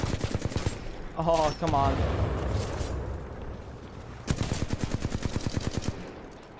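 Automatic gunfire from a Titanfall 2 match, rapid bursts of shots in two clusters, the second stretch loud and steady, with someone talking briefly in between.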